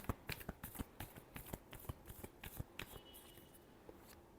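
Tarot cards being shuffled by hand in a quiet room, a rapid run of crisp riffling snaps and flicks that thins to a softer rustle near the end.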